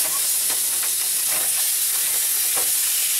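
Chicken pieces browning in a pan with a little vegetable oil make a steady, loud hissing sizzle with faint scattered crackles, close up and without talk.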